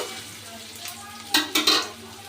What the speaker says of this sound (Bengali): পেঁয়াজ আর রসুনটাকে আমি হালকা ভেজে নিয়েছি